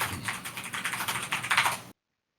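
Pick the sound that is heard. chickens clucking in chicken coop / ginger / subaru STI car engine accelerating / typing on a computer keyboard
typing on a computer keyboard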